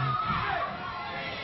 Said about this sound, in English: taking the wrath of the crowd once again